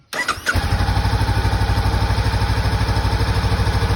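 A Honda CBR500R motorcycle engine cranks briefly, catches and settles into a steady, rhythmic idle, loud and close.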